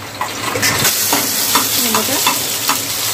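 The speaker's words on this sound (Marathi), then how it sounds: "त्याला चांगलं फ्राय करून घेऊया." Green chilies fry in oil in a pan for a peanut chutney, a loud steady sizzle close by with repeated spatula stirs and scrapes scattered across it.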